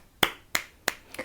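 Four sharp finger snaps at a steady, slightly uneven pace, close and crisp, offered as a small round of applause with no voices around them.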